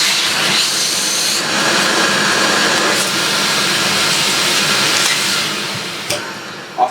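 An Electrolux Automatic G vacuum cleaner runs steadily with a clogged hose, giving a loud, continuous broadband whoosh with a strained airflow tone, then dropping off near the end with a brief clunk.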